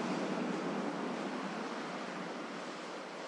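Rough ocean surf washes at a surf beach in an even, hissing roar of breaking waves that holds steady throughout, with no voices.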